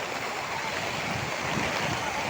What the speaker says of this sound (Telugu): మా వాన మట్టుకు ఆగట్లేదు